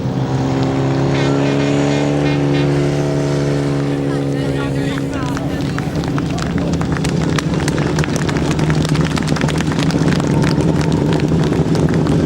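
Grasstrack sidecar outfits racing at a 1999 British Masters meeting, engines first droning in steady tones, then rising into a loud crackling rasp as machines pass nearby, with an announcer talking over them.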